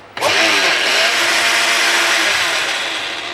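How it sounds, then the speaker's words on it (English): A blender pureeing cooked pumpkin that has just come off the stove, starting suddenly and holding a loud, steady whirring roar that stays close and constant for several seconds, with no talk over it. "All we're going to do now is take it off the stove and put it into a blender."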